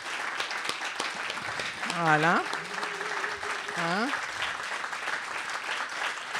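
An audience at the 2010 launch of Quebec's adult learners' week applauds the staff standing up, with steady mid-level clapping throughout while someone speaks briefly over it and a voice rises twice.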